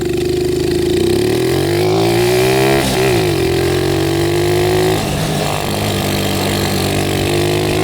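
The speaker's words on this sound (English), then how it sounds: "let's jump on the NA kart and see what time we get" Non-turbo 150cc go kart accelerating, its engine note rising steadily and revving through several surges, loud and close with no talk over it.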